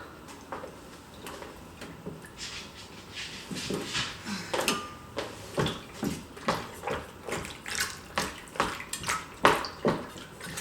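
A skirt being stirred in a bath of Dylon fabric dye, the water sloshing in a steady rhythm of swishes that grows louder toward the end, close by and with no talk.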